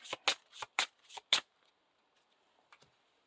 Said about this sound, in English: And then shuffle the encounter deck.